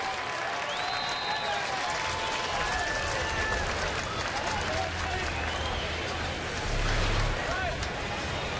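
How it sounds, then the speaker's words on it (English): A ballpark crowd at a spring training baseball game between the Yankees and Braves cheers and applauds for a returning former Brave, a steady, dense roar of many voices and clapping that swells briefly near the end. "a nice cheer for former Brave Matty Diaz"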